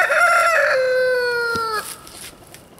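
A rooster on an off-grid homestead lets out one loud, close crow that rises and then trails off, with no voices over it.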